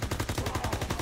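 Rapid gunfire from Call of Duty: WW2 Nazi Zombies, a steady automatic rhythm of loud, close shots repeating evenly throughout with no talking.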